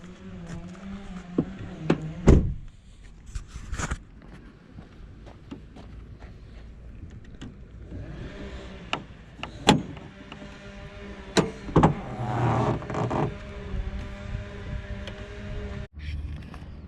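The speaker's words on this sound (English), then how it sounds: "I'm gonna open the hood." Hood of a Ford Explorer being opened: a few sharp latch clicks and thumps, a metallic clunk and a hollow creak, close by and separated by quiet stretches.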